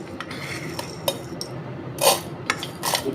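A spoon scoops sago pearls into a bowl for watermelon kheer: a dense run of small clinks and rattling taps, with brighter bursts of pearls spilling in, close and fairly loud with no talk.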